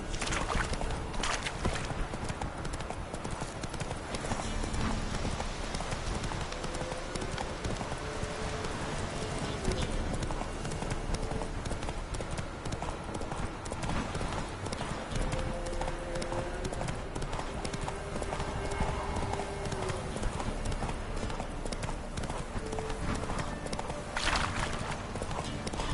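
Roach, a horse in The Witcher 3, clip-clops steadily for a long stretch, hoofbeats moderately loud and regular over ambient game sounds, with an occasional faint whinny.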